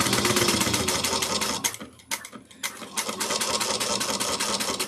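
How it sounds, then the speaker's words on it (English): A sewing machine stitches a bag an eighth of an inch from the edge, running in fast steady bursts, pausing briefly midway, then resuming at full speed close to the mic. "We're going to stitch 1/8 of an inch all the way around."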